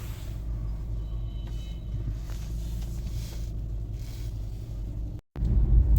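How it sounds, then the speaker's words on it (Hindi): A DFSK Glory 580 Pro SUV reversing, with a steady low engine rumble throughout, a brief dropout near the end, then a louder surge as it continues moving. "गाड़ी रिवर्स हो रही है"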